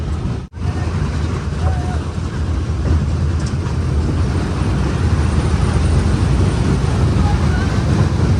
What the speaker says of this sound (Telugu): ఇప్పుడైతే ఇక ట్రైన్ స్టార్ట్ అవుతుంది.